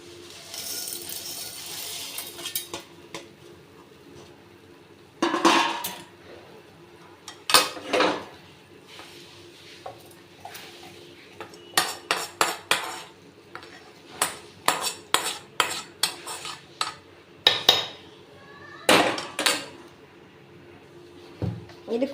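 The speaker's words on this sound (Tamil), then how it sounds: "ஆற வச்சதை ஒரு மிக்ஸி ஜாருக்கு மாற்றிக்கலாம்." Cooled, roasted ingredients for Andhra-style spicy chutney spooned into a mixer jar: sporadic metal scrapes, clinks and knocks of a spoon against vessels, quiet at first and then in quick clusters.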